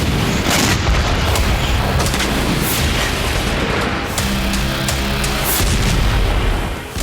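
Kamikaze drone explosions striking military vehicles on roads in Kursk: loud, dense rumbling blasts and booms piling over one another in a continuous, heavy wash of battlefield noise.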